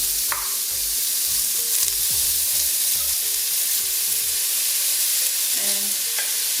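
Spam frying in a pan with garlic and ginger, a steady loud sizzle running throughout, broken in the first half by repeated low knocks and scrapes of stirring.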